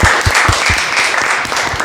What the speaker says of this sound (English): Okay, so can we clap for him, everyone?